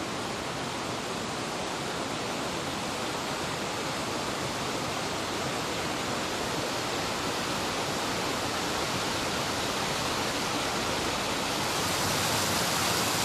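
A mountain creek on the Wonderland Trail rushes through a deep channel, a steady full-bodied roar of flowing water that swells slightly louder near the end.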